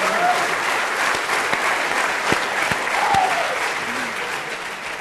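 Seminar audience at CERN giving a sustained round of applause, a dense even wash of clapping from a large room, heard alone without speech.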